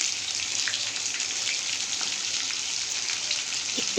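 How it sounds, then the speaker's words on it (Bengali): Soybean chunks fry slowly in oil over a lowered gas flame for soybean pakora, giving a soft, even bubbling hiss with occasional faint pops throughout. "সোয়াবিনগুলোকে আমাকে আস্তে আস্তে জালে ভাজতে হবে, তার জন্য আমি গ্যাসে ফ্লেমটাও কমিয়ে দিয়েছি।"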